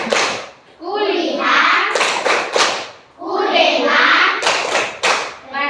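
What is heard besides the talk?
children's rhythmic focus clapping in class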